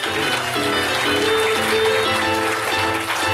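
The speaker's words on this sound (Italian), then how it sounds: "ci facciamo ora l'applauso" An audience at a theatre comedy performance applauds with a dense, continuous clatter of clapping hands. Sustained music tones sound underneath, and the applause stays loud and steady throughout.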